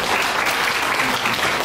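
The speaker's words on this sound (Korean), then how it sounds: "큰 박수 부탁드리겠습니다." Wedding guests clap loudly and steadily throughout a grand ballroom ceremony, a dense, continuous round of applause with no pauses.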